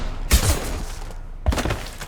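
Gunfire in Mass Effect 2, two short loud bursts of shots with booming impacts separated by about a second, close and prominent with no speech.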